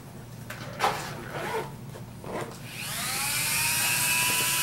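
A rotary tool spins up to a high, steady whine while texturing the edge of a carved, turned wooden sea shell, preceded by a few brief scrapes and handling clicks, and the tool sound stays close and continuous.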